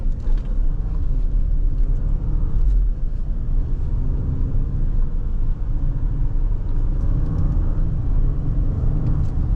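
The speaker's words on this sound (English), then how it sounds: "So let's start with the acceleration. Again, this is probably one of the most powerful Bentley Bentayga motors with the twin turbo V12" A 2018 Bentley Bentayga W12 with a twin-turbo engine accelerating in sport mode, a loud, steady, deep rumble that holds unbroken throughout with no talking.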